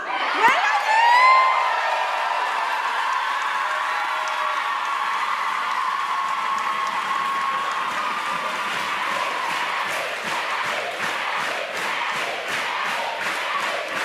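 Audience cheering and applause after a dance show: whoops and shouts burst out at the start, then settle into sustained, dense clapping that grows into a rhythmic, unified beat toward the end.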